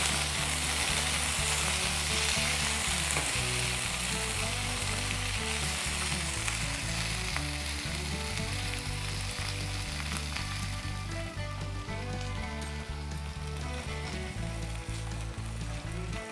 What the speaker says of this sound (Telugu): టమాటాలు బాగా వేగే వరకు కలుపుకుంటూ ఉండాలి